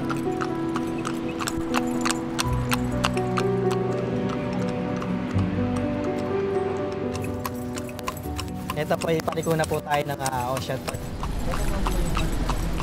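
A horse pulling a kalesa carriage clip-clops steadily on pavement near Ocean Park, hooves ringing in a close, regular rhythm, with a neigh and people talking over it throughout.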